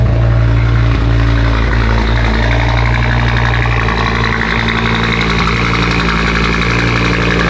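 An Audi RS3 with a nearly straight-piped exhaust idles steadily while warming up after a cold start, a loud, even, close rumble with no talk.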